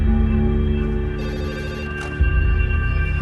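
A telephone rings in a chemical plant control room during a minor gas leak, a continuous ringing tone over a dense humming background, loud and close with no talk.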